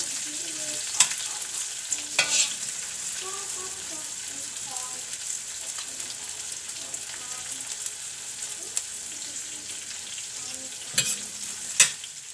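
Onion sizzles and fries steadily in a pan for a tofu dish, with a broad continuous hiss and a few sharp clinks of stirring, and no talk over it.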